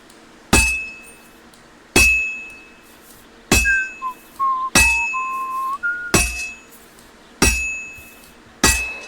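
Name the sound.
hammer striking sword on anvil, Kingdom Come Deliverance II video game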